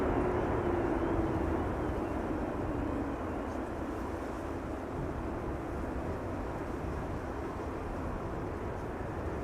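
A landing airliner roars under reverse thrust at Amsterdam Schiphol Airport, a loud, steady broadband rumble that holds strong throughout, with a faint whine in the first couple of seconds.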